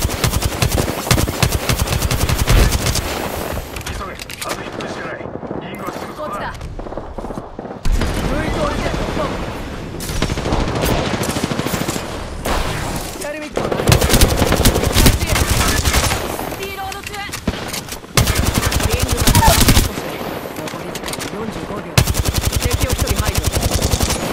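Heavy automatic gunfire in the video game Apex Legends comes in loud repeated rapid bursts with short pauses between them, mixed with character voice lines.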